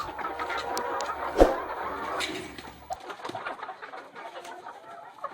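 Laying hens on a poultry farm in Nakuru, Kenya, cluck and murmur in a soft, busy flock chorus, with a sharp squawk near the start and quieter scattered calls later.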